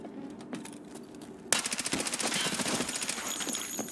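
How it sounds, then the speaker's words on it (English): Automatic gunfire in the video game Escape from Tarkov on the Labs map breaks out suddenly as a fast, loud burst of rapid shots that continues steadily to the end. "he started shooting the wall"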